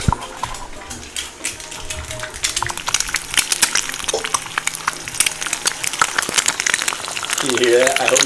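Eggs fry in a hot pan for a sandwich: a close, crackling sizzle with dense pops and spits builds after a quieter start and keeps going steadily to the end.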